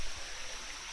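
A small waterfall on Koh Chang island in Thailand, seen outside the wet season, gives a steady, even rush of flowing water, a constant wash of noise that holds level for the whole second with no voices.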